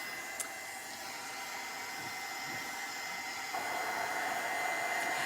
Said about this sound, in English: I'm going to dry it with the heat gun.